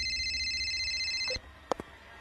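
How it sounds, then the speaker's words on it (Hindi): A phone rings with one sustained electronic trill that cuts off abruptly, followed by a few faint clicks in a quiet room. "लेकिन तभी जेराल्ड का फोन बज उठा।"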